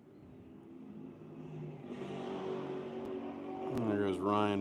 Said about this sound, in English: And there goes Ryan by in the Iowa 1-lap Z06.